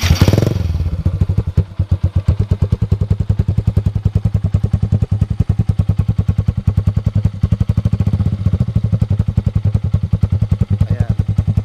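A loud Yamaha SZ motorcycle engine with no silencer idles close by, its rapid, steady popping exhaust pulses continuing without a break throughout.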